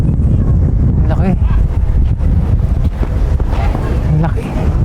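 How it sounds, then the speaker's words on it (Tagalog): Strong wind buffets the microphone at a beach in Pagudpud, Ilocos Norte, as a loud, constant roar with gusty surges, and a voice speaks briefly under it. "Sa beach eh, kasi malakas yung hangin."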